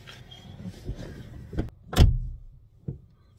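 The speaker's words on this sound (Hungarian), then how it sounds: "Finoman csuktam be az ajtót, igen." A car door closes gently: a few soft handling clicks, then one muffled thud, followed by a faint click, close by with no talking.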